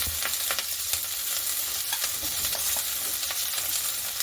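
White onions and ginger-chili paste fry and sizzle in hot oil in a pan for cabbage Manchurian, giving a steady close crackle with a few stirring scrapes and no talk.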